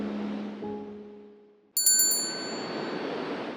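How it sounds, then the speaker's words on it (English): A diner's door bell rings in an animated story, one bright metallic ding that rings out over a soft background hum and low tones and then lingers. "the diner bell rang"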